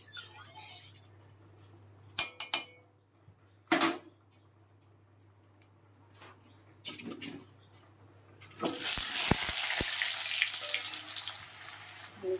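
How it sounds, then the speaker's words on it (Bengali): A batter mixed with salt, turmeric and chili powder goes into hot oil in a kadai. After a few quiet clinks and knocks, it bursts into a loud, steady, high frying sizzle. "একটু ভেজে নেবো।"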